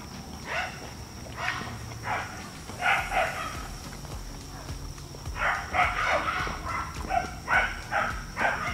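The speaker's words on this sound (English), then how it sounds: "Now I got a dog barking." A dog barks repeatedly at a distance, in irregular bursts spread across the clip, fairly faint against a quiet background.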